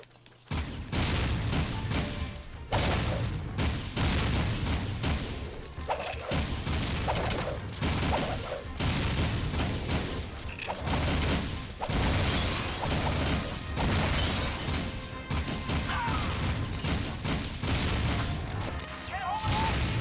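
Rapid gunfire in the Jak and Daxter video game during a port defense with infinite ammo, dense bursts of shots and crashing impacts running nearly nonstop at high loudness, with mechanical clanks mixed in.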